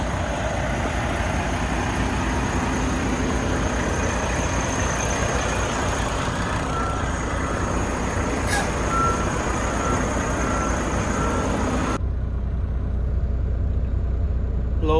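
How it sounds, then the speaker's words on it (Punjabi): Truck backing up at an unloading dock, a steady series of loud tonal reversing beeps over a low idling diesel engine rumble, continuing until the beeping and engine noise drop off sharply near the end. "ਲਓ ਬਈ ਆਪਣਾ ਟਰੱਕ ਅਨਲੋਡ ਹੋਣਾ ਸ਼ੁਰੂ ਹੋ ਗਿਆ"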